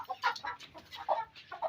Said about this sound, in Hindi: आज जैसे ही निकली है वो ये नहाना इसने शुरू कर दिया है मट्टी में